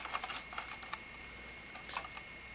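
A CPU cooler's shroud is fitted into place and four screws are returned, producing faint, scattered small plastic and metal clicks and taps, close and quiet, with no talking.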